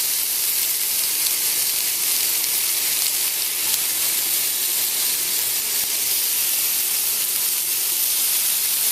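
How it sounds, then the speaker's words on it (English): Turkey bacon sizzles in a pan with a loud, constant, dense hiss that holds steady throughout, close and alone. "stick your bacon onto the pan and you'll hear it sizzle"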